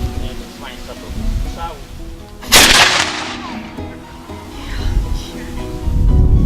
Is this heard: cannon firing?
yes